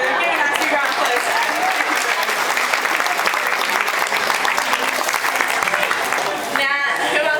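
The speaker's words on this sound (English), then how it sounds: "a nice big round of applause." Sustained, loud applause from a large audience at a dolphin and seal show, steady clapping throughout with a brief dip near the end, and a presenter's voice faintly mixed in.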